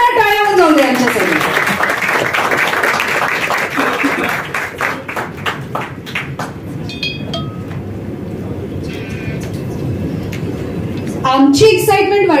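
An audience at a film trailer launch breaks into applause that swells and then thins into scattered clapping, with a presenter talking over it and a fresh burst of clapping near the end.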